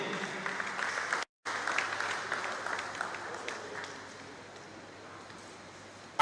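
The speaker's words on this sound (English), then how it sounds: "let's give him a round of applause once again." Audience applause at a pest control association seminar panel session in Nigeria, steady clapping that drops out briefly, then fades to a softer, thinner patter toward the end.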